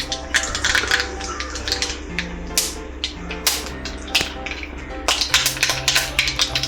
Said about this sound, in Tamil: இப்போது கடுகு போட்டுக்கலாம்